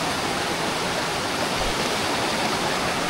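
A river flows at a cool outdoor riverside spot as a loud, constant rush of water, dense and unbroken, with no voices over it.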